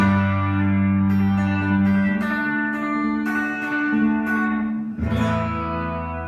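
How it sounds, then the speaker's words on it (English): A vintage Ace Tone EC-10 Professional Echo on mode 1 gives a fast slapback repeat to a sustained electric guitar chord, loud and continuous, with a fresh strum near the end. "It's a really fast kind of reverb or a really fast kind of slapback effect."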